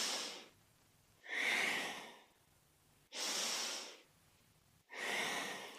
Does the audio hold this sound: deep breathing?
yes